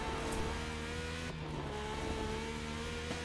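A Ferrari accelerating in the racing game The Crew Motorfest, a steady engine drone with sustained tonal whine that holds and rises slightly, heard at moderate loudness without speech.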